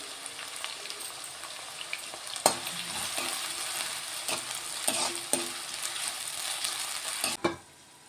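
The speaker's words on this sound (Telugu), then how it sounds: "ఆనియన్ ఫ్రై అవుతున్నాయండి ఆనియన్ ఫ్రై అయ్యాయి ఆల్రెడీ" Chopped onions fry in hot oil for a potato chicken curry, giving a steady sizzle with scraping stir strokes and a few louder clatters of the spoon, with no talking.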